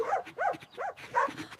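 Puppy giving a run of three or four short, high yapping barks in quick succession, close and fairly loud, with a slight whiny edge.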